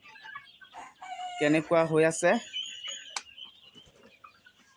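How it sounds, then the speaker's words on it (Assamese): Local chickens, seventy days old, call on a poultry farm, with a burst of loud crowing or clucking in the middle and softer cackles around it, under a person talking. "আমাৰ মুৰ্গীবিলাক দেখা পাইছে স্ক্ৰীনত"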